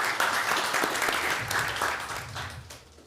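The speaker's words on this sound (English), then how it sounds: "Round of applause." Sustained applause from the audience at a school district board meeting, dense clapping that holds steady for the whole stretch and tapers slightly near the end, with no talk over it.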